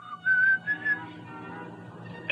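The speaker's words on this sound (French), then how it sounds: "Tu as vraiment le plus horrible sifflet que j'ai jamais entendu." A shrill whistle sounds in a few short bursts, one longer tone followed by two quick chirps, then a steady low rumble continues beneath.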